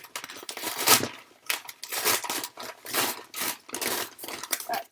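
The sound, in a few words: scissors cutting open packaging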